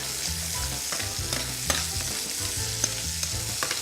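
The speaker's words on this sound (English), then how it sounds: "give it a smash, throw it in the oil. Stir it around." A smashed garlic clove fries in oil alongside rendering bacon for spaghetti carbonara, giving a steady close sizzle with occasional scraping clicks as it is stirred around the pan.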